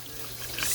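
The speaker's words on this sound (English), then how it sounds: "Got to turn my water off." Tap water runs steadily into a kitchen sink while a box gumbo mix is being prepared, a close, continuous splashing hiss that swells slightly toward the end.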